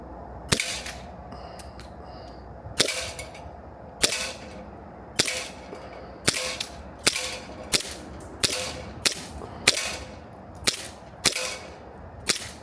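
Sig Sauer Emperor Scorpion 1911 and Beretta APX CO2 BB pistols fire about thirteen sharp, loud cracks at an outdoor range around 25 feet from the target, spaced at uneven intervals and quickening toward the end, with no talking.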